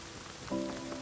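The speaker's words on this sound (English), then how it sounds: "Rain is a huge help." Rain falls steadily in the survival video game Rust, a soft continuous hiss of drops on surfaces, with a brief tonal in-game sound layered over it partway through; no voices.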